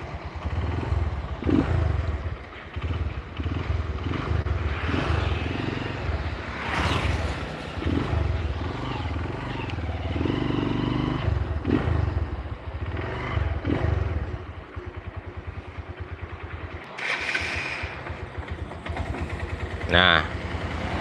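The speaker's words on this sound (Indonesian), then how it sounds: "di sini mesin bagian bawah ya ada suara" Running Honda Verza motorcycle engine with no air filter fitted, a steady loud idle drone with some clatter from the lower engine, continuous throughout with brief dips and a short squeal near the end.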